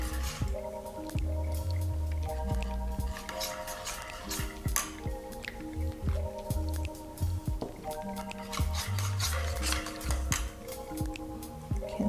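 A spoon stirs a homemade soap mixture, making wet squishing and sloshing with occasional clinks against the container, steady and close, under background music.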